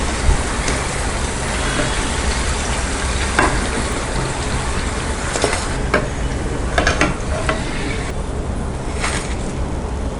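Sliced Nendran banana chips fry in hot oil for Kerala-style chips, a dense steady sizzle and bubbling with scattered crackles and occasional stirring scrapes, close and loud throughout.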